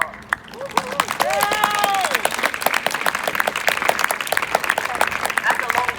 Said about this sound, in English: That's a long clap for shouting really loudly